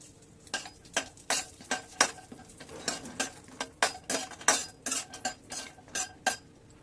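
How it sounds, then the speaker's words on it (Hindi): Cashews and almonds roasting in ghee are stirred around a pan, a spoon scraping in quick rhythmic strokes over a faint sizzle, close and steady with no talking. "इसमें जो ये ड्राई फ्रूट्स रखे थे इन्हें थोड़ा रोस्ट कर लेंगे"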